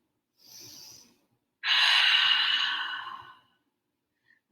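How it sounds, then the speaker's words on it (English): Two open-mouthed breaths during yoga practice: a soft inhale, a pause, then a long, loud airy exhale let out close to the mic in an otherwise quiet room. "Inhale, open mouth, exhale"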